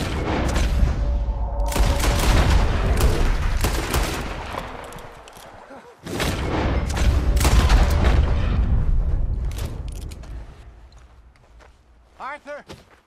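Gunfire in Red Dead Redemption 2: loud bursts of rapid shots and booms in two long volleys separated by a brief lull, with shouting voices among the shots.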